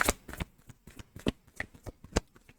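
Tarot cards being shuffled by hand, close up: a quick series of crisp papery riffles and slaps in an irregular rhythm, with no talking.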